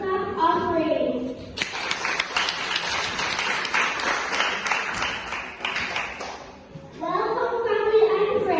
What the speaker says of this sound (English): Let us give God a clap of praise.